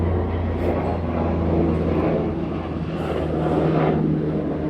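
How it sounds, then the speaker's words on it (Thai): A low, steady engine roar of an airplane passing overhead, filling the background evenly and slowly swelling, heard outdoors with no talk over it. "เครื่องบินบินผ่าน"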